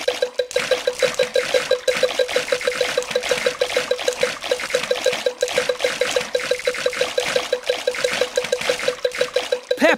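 Cartoon pigs swimming in a pool in a Peppa Pig game churn up quick, rhythmic splashes of water, repeating pulses over a steady tonal backing.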